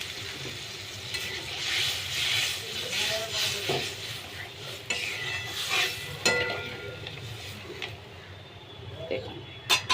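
Hot water poured onto mustard paste in a pan sizzles and hisses while a spoon stirs and scrapes. A voice talks over the cooking sounds, which swell and fade.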